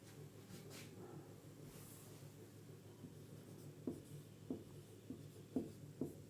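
Chalk or marker writing on a board in a physics classroom, a few quiet scratchy strokes and then a run of distinct tapping marks at a regular pace, close and fairly faint, with no talking.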